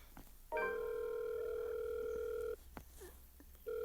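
A telephone call's ringing tone sounds as a steady, loud electronic tone for about two seconds, then silence, then the tone begins again near the end; no one speaks.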